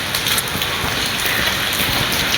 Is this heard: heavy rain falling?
yes